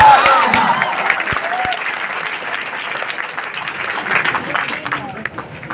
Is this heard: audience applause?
yes